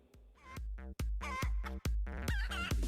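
A recording of a rooster and hens plays, with repeated sharp clucks and squawking calls in an uneven rhythm, close and clear with no talking.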